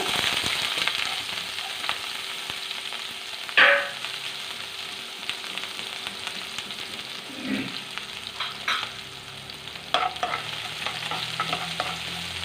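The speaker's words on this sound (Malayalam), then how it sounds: "കുറച്ച് ഉഴുന്നുപരിപ്പ് ഇടുവാണേ അതൊന്ന് മൂക്കട്ടെ കുറച്ച് ഉള്ളി" Urad dal and onion fry in a pan with a steady sizzle, while a utensil clinks and scrapes now and then as the mixture is stirred.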